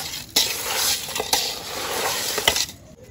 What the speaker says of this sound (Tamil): இதே உப்பு போட்டு விரசிக்கிட்டு இருக்கோம்.